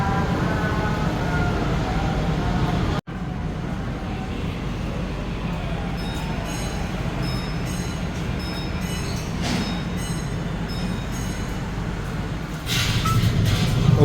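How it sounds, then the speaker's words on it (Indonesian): Arjuna Express passenger train pulling away from Lawang station after a one-minute stop, a steady low rumble of carriages rolling on rails from onboard, continuous and moderately loud with a sharp brief cut near the start and rising noise at the end. "kereta api Arjuna Express berangkat kembali dari stasiun Lawang"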